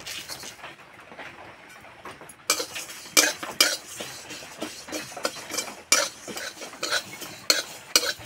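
Dry whole spices (dried chillies, cumin, coriander seeds, five-spice mix) crackle and rattle in a hot wok, with a spoon or spatula scraping and tapping the metal in uneven bursts, close and fairly loud.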